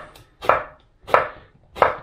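A knife chops courgette and aubergine into quarters on a board, making three sharp, evenly spaced thuds close up with quiet pauses between them.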